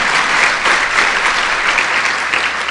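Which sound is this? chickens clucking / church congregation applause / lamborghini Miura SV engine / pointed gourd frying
church congregation applause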